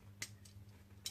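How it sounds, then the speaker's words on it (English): A plastic part on an HG 1/144 Gundam Gusion Rebake Full City model kit collapsing into shield mode, giving a couple of faint, sharp clicks a moment apart in a quiet room. "if you want to turn it into a shield mode, you just collapse it and you should hear a click"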